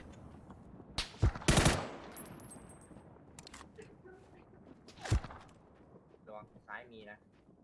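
Gunfire in the video game Battlegrounds (PUBG): a few sharp bursts of shots, one loud double burst near the start and another single crack later, with sparse footstep-like clicks between and players talking.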